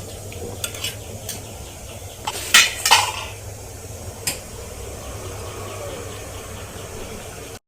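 Cooked vegetable curry is scooped from a pan into another pot, with several scraping clanks of a spoon against metal over a low steady background hiss, the loudest scrapes bunched near the middle.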